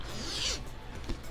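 A zipper on the fabric storage bag of a Sunbeam analog heated blanket is pulled in one quick close rasp, followed by softer rubbing of the bag.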